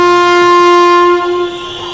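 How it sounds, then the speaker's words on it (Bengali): A passenger train sounding a loud, sustained horn close by, a strong steady tone that fades slightly toward the end, with no voices. "ভোরের দিকে ট্রেন থামল বরাভূম স্টেশনে"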